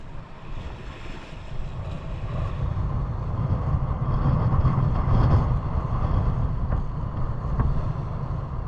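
Strong wind blows by the water, a loud, steady roar with a gusty low rumble, mixed with surging waves and buffeting on the microphone throughout, and no voices.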